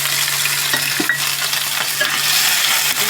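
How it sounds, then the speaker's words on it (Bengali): Small and large prawns fry in hot oil, a loud, continuous close-up sizzle with a few faint clicks and no talking. "তেল দিয়ে দিলাম প্রথমে আমি যে তেল দিয়ে এখন আমি দিয়ে দিব চিংড়ি মাছ"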